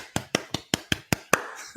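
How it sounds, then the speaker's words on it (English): A person claps their hands seven times at an even, brisk pace, close and crisp, with a voice starting just as the last clap sounds. "I'm going to clap"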